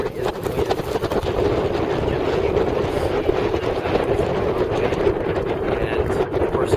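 Strong snowstorm winds gusting to 20-30 mph at Minneapolis-St. Paul airport buffet the microphone with a continuous low, rumbling roar that holds steady throughout.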